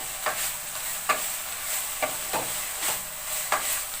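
Dhekia fern greens frying in a pan over a raised flame, a soft continuous sizzle broken by five or six distinct scraping strokes of a spatula stirring the greens at irregular intervals, close, with no talking.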